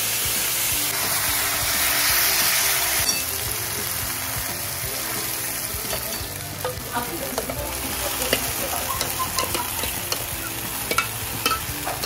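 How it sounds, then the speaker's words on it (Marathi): Hot oil sizzles and crackles steadily in a kadhai as Schezwan chutney is tempered, with a dense frying hiss and occasional stirring scrapes and pops throughout. "शेजवान चटणीला आता आपण छान फोडणी देतोय. तेल टाकले आहे, कढई तापतीये."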